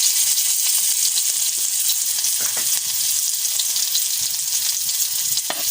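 Aromatics sautéing in a pan for adobong kangkong, a Filipino river spinach dish, giving a loud, continuous sizzle close up with faint stirring clicks and no talking.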